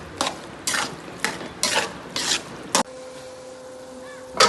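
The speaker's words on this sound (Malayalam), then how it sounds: "ഞാനിതാ ഇഞ്ചിയും പച്ചമുളകും പേസ്റ്റാക്കിയത് ഇടുന്നുണ്ട്. നന്നായി ഇതൊന്ന് ഇളക്കി നമുക്ക് അടച്ചു വെക്കാം." A spatula stirs ginger and green chili paste frying in a pan, six quick scraping strokes in an uneven rhythm over a soft sizzle, then a quieter stretch of gentle frying with a final scrape at the end.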